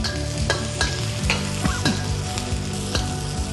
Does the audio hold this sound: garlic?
yes